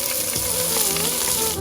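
Chopped onion lands in hot oil with mustard seeds, bursting into a loud, dense sizzle that holds steady for a moment, close up and without voices.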